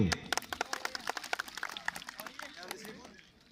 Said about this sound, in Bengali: আমরা তাকে অ্যাপ্রিসিয়েট করি করতালি দিয়ে